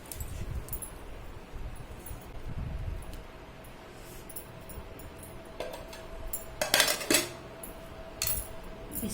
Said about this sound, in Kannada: ಈಗ ಅನ್ನ ಕಲಿಸ್ಕೊಳ್ಳೋಣ ಬಾಣಲಿಗೆ.